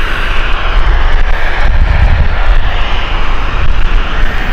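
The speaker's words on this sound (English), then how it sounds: "There's the EasyJet rotation." EasyJet airliner taking off at Gatwick Airport, a loud, steady roar of jet engines close by with strong low rumble, alone without talk.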